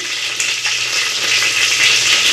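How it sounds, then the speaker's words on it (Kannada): Mustard seeds and cumin sizzle loudly in hot butter and oil for a North Karnataka-style rice tempering, producing a close, continuous, hissing crackle with faint popping and no talk. "ಇವಾಗ ಸಾಸಿವೆ ಮತ್ತು ಜೀರಿಗೆ ಒಗ್ಗರಣೆ ಹಾಕಾಕತ್ತೀನಿ"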